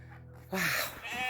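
Sheep on a small farm at sunset let out a single loud, wavering bleat after a quiet lead-in of low background noise.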